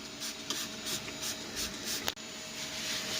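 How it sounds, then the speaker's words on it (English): A spray bottle of isopropyl alcohol hisses in a run of quick, short bursts close by onto a Neptune 4 Max 3D printer bed, followed by soft rubbing and wiping sounds. "now I'm gonna spray the whole bed with IPA and clean it"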